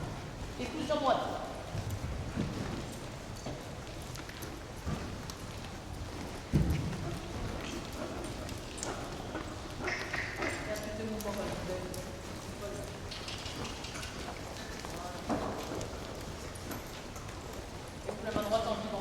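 Horse hooves clip-clop at a steady pace through an outdoor riding lesson, moderately distant, while an instructor's voice speaks over them.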